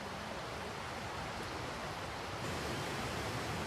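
Waterfalls on the Saire, a coastal river, make a dense, steady roar of rushing water. It is broadband and unbroken, with no voices over it.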